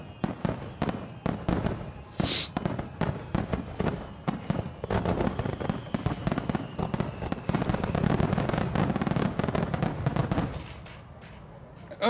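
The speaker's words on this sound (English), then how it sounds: "Show me the best fireworks ever." Fireworks from an online display play back continuously, with dense crackling bursts and sharp pops layered over booming rumble, loud and sustained before fading near the end.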